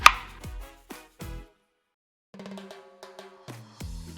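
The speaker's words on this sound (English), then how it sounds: "Now blend all that into a paste." A food processor chops pepper, cilantro, garlic cloves and a small onion into a paste: a few sharp, close chopping bursts, a brief pause, then a whirring motor hum that rises and steadies toward the end.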